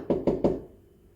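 Three quick, hollow knocks of a Breville espresso portafilter being struck to dump a used coffee puck, evenly spaced and close, then a short fading tail with no talk.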